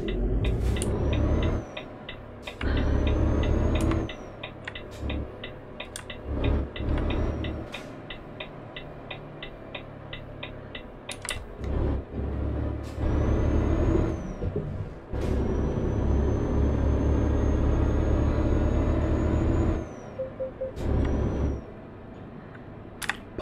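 A heavy truck setting off in Euro Truck Simulator 2: repeated sharp air-brake hisses and releases, a steady ticking indicator, and a low diesel engine drone that rises and falls as gears change, with no voices.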